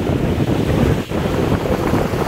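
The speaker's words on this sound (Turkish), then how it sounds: "Hava 15-18 arası esiyor." Steady wind roars across a sailboat at sea off Bodrum, its mainsail reefed and jib partly furled in a 15–18 knot breeze, mixed with surging wave and water noise and a brief lull midway.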